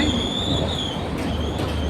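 Coastal train in Sri Lanka on the Colombo line, a loud rumbling passage with metallic wheel squeal and high screeching tones over continuous rail noise, close by.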